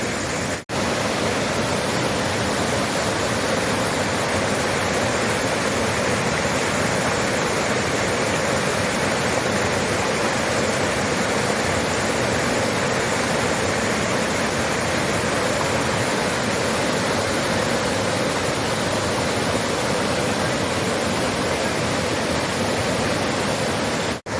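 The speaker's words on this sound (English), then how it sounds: "Beautiful waterfall." A dense, steady roar of falling water from a waterfall near Luang Prabang, Laos, fills the air without pause, loud and constant like a nearby cascade.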